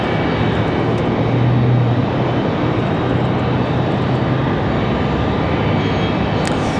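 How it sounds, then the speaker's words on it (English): An Alaska Airlines Boeing 737-9 at Raleigh-Durham International Airport at night, a loud continuous engine roar with a low steady hum that stays dense and unbroken throughout. "Looks like a 737-9 tonight."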